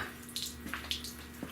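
Water rinses a rusty car frame being cleaned out in its corners, a soft irregular splashing and trickling with a few spattering bursts, quiet and without talk.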